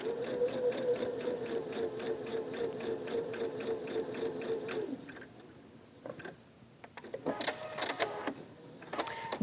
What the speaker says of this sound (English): You take all of your 9 patches and you sew up one side, and then you sew them all down